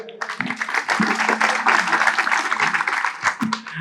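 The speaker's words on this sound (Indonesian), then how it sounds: "Tepuk tangan dulu Mas." Audience applause at a Kenduri Cinta gathering, brisk uneven clapping from a crowd with a few voices talking underneath, rising and falling over the few seconds.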